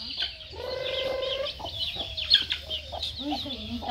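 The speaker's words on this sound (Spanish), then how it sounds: "Bueno, aquí están los pollitos." Small chicks peep and cheep in a busy cluster, with clucking hens nearby and a voice talking over them.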